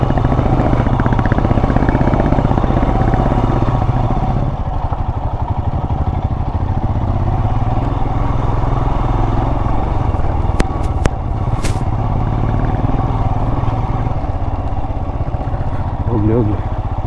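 Motorcycles ride offroad on a dusty forest trail, engines rumbling loud and continuous close by, with brief louder revs midway.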